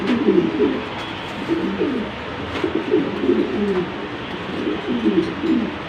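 Racing pigeons coo in a loft, repeated low throaty rolling coos from several birds, fairly close and continuous, with no talk over them.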